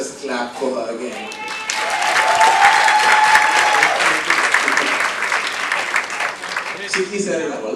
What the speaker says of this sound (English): Let's just clap for her again